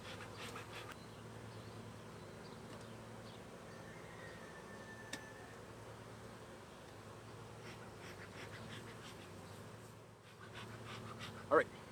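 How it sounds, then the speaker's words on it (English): Honeybees hum around a backyard beehive during a hive inspection, a steady low drone that runs throughout with faint overlapping buzzes and a brief sharper sound near the end. "I've already got bees checking out my next box."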